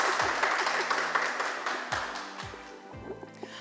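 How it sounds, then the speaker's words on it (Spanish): Studio team applauding at a Christian church program, close, moderately loud clapping that continues steadily throughout, with a few sharp louder claps. "Fuerte el aplauso, equipo."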